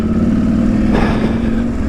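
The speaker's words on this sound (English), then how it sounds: "second gear, pulling away, I should have given it more revs" A vehicle engine revs up as it pulls away in second gear on a trail, a steady mid-pitched drone swelling briefly, close and fairly loud.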